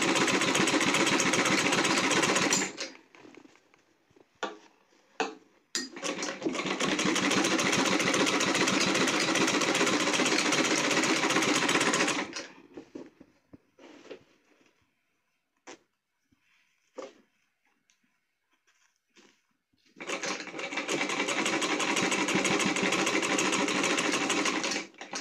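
A sewing machine stitching a quilt cover runs in long, steady, rapid bursts that stop for a pause with a few scattered clicks and handling sounds, then start up again close by, alone.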